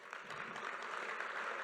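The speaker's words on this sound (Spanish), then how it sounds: "Fuerte aplauso." Steady, moderately distant applause from an audience at a regional business forum as a company representative is called to the stage, a continuous wash of clapping without pause.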